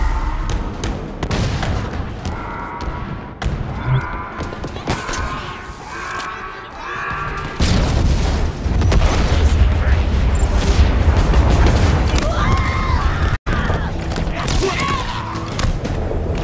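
Heavy explosions boom and crackle as a gun's generator is destroyed in Halo Infinite, with rolling blasts and debris that swell louder after midway, layered under game dialogue and chatter.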